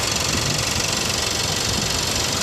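A 2014 VW Beetle's four-cylinder engine idling with the hood open, a steady close mechanical hum with a light ticking texture and no speech.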